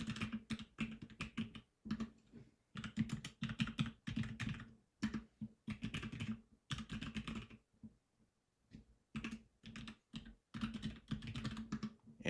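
Someone types account information on a computer keyboard in quick, irregular bursts of close, clicky keystrokes separated by short pauses.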